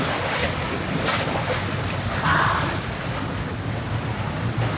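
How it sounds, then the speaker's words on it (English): Ocean waves pummelling rocks along a coastline on the way to the Bahamas, a continuous rushing wash of surf mixed with heavy wind buffeting the microphone, loud and steady with a brief swell of spray midway. "those rocks are just getting pummeled by waves"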